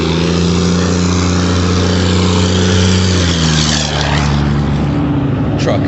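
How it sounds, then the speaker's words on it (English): A loud, heavy engine rumbles close by, its low drone shifting in pitch as a large vehicle passes. "Loud truck."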